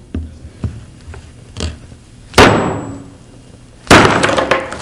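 Hammer blows strike a chunk of halite rock salt: a few light taps, then two hard, sharp cracking impacts with a gritty, crumbling ring, loud and close with no talk.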